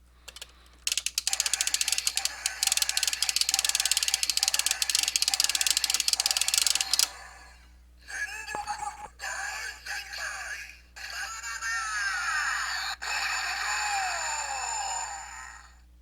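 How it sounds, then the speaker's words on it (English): A toy cannon's big finisher sound effect in cannon mode goes off loud and electronic: a dense buzzing burst, a brief pause, then a warbling, sweeping electronic tone, heard alone and close up. "So here's the big finisher sound effect."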